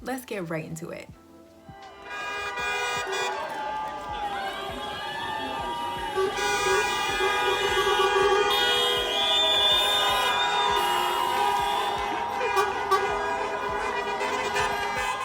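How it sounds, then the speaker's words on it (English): Crowded street noise with overlapping honks and horn toots from passing traffic, mixed with cheering voices and a continuous loud bustle. "Cars were honking their horns, and even the buses were getting involved"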